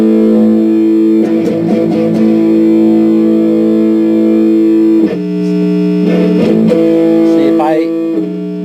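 Electric guitar played through a Boss Mega Distortion MD-2 pedal with distortion at maximum, loud saturated chords ringing with sustained harmonics, then a second burst of strummed distorted chords and a brief pitch slide near the end.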